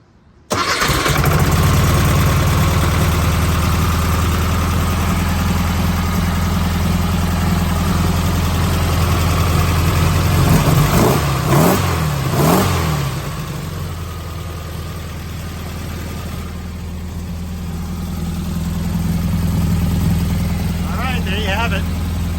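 A 1984 VW Puma GTI 1600 Brazilian sports car, just out of storage, starts and runs with a steady, loud engine drone close by. A cluster of quick revs comes around the middle, then it settles back to a rough idle.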